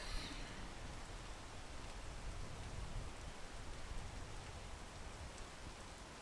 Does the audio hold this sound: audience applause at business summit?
no